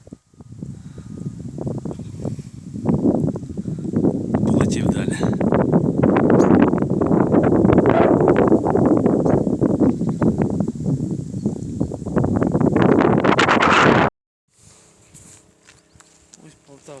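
Strong wind buffeting the microphone in loud, roaring gusts that rise and fall, then cut off abruptly to a quiet background.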